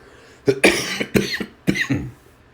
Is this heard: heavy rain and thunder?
no